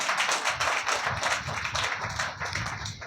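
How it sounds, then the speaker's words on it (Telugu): An audience at a church gathering claps together, a steady, brisk patter of many hands that carries on without pause for a few seconds. "గట్టిగా చప్పట్లు కొడదామా."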